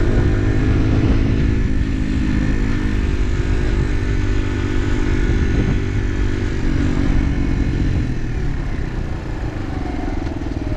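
A Chinese supermoto motorcycle engine runs loud and close, a dense, steady mechanical drone that holds without pause for the whole stretch, with no talking over it.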